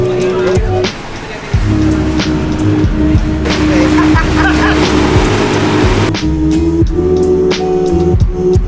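Steady low engine rumble with water sloshing and wind noise from a boat moving through Rotterdam's old harbour, while people talk over it nearby.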